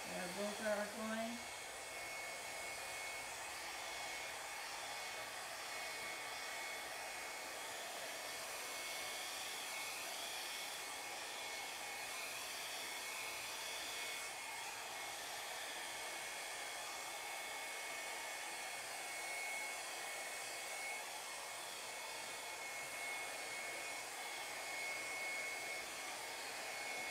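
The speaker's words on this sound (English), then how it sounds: "let's use a blow dryer today to blow this out" A blow dryer runs steadily over a Dutch pour acrylic painting with a constant whooshing hum, starting with a brief shift in pitch and then holding an even roar throughout.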